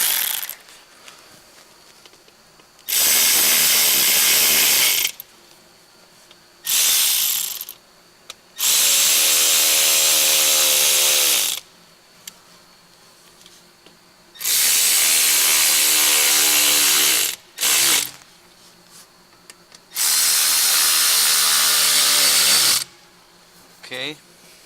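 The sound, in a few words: ratchet tightening center pipes on Porsche Boxster S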